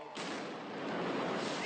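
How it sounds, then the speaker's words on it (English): A muffled explosion from the Boston Marathon bombing, a sudden dull burst that cuts in and becomes a sustained, broad roaring rush lasting over a second, fairly faint overall. "Une explosion sourde."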